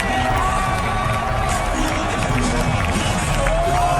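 A loud basketball crowd at Madison Square Garden roars and cheers in a constant, dense mass of voices, with whoops rising out of the din throughout.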